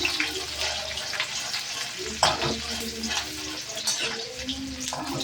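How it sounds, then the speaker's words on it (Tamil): Mustard seeds splutter and crackle in hot oil for a Tamil kara kuzhambu, a dense continuous sizzle with sharp pops, close and moderately loud, with a faint voice speaking over it. "கடுகு, நல்லா பொரிஞ்சிச்சுட்டாங்க."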